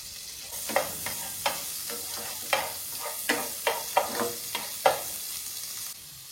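Butter frying in a pan for white sauce pasta, a steady sizzle punctuated by a series of distinct scraping strokes and taps of a utensil against the pan, close and clear.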